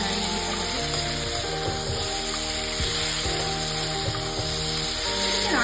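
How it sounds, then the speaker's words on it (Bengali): Fried soybeans are stirred in a hot pan, with a steady sizzle and light scraping of a utensil against the pan throughout. "যে ভেজে রাখা সয়াবিনগুলো রেখেছিলাম ভেজে সেগুলো ভালো করে নাড়িয়ে দিতে হবে।"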